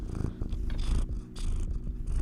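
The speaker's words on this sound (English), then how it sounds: "Yo, you got a purr." A house cat purrs steadily and close up, a low continuous rumble with a rhythmic pulse and no voices over it.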